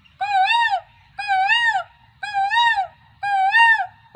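A voice mimics a koel's call, four rising, looping whistled hoots spaced about a second apart, clear and close with no talk.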